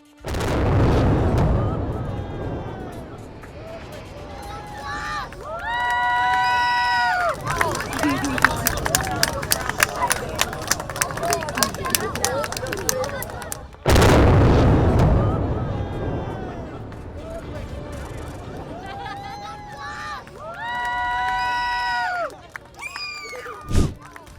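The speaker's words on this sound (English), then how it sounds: "Here's every angle of the demolition of the old I-74 bridge's eastbound side on Sunday, June 8, 2023." Explosive demolition of the eastbound side of the old I-74 bridge sounds as two deep, heavy blasts with rolling rumble, followed by crowd chatter and cheering at a distance.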